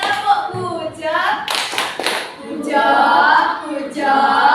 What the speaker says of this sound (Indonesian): Kita kasih tepuk bujur untuk kelompok 3.